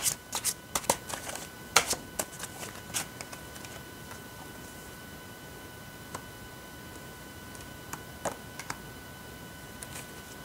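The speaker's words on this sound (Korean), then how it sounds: "다음 여러분에 대한 상대방분의 속마음은 어떤지 카드 뽑아보도록 할게요" Tarot cards shuffled and drawn at a table, a quick run of crisp riffling flicks at first, then scattered soft taps and slides, close and quiet with no talking.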